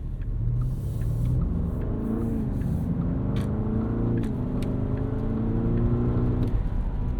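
A 2024 Porsche Cayenne S with V8 and air suspension cruising on a morning commute, steady low engine hum and whir from inside the cabin, rising slightly in pitch, no talking.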